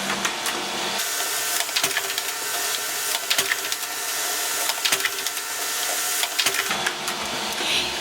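Printer feeding and printing PDF pattern pages, a close mechanical whirring with repeated clicks and grinding bursts as sheets pass through, no voices.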